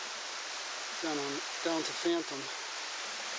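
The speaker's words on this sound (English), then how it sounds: "We're walking along Bright Angel Creek" Bright Angel Creek in the Grand Canyon near a campground, flowing as a steady broadband rush of water under a hiker's brief nearby speech.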